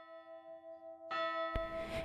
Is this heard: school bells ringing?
yes